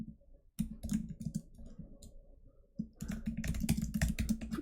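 Bursts of rapid clicking on a computer keyboard while coding, close and crisp, with a short pause before heavier, denser typing resumes.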